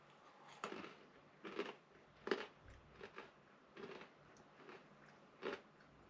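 Snyder's jalapeno pub snacks are crunched up close: about seven crisp, separate bites and chews spaced irregularly over a quiet background, with no speech.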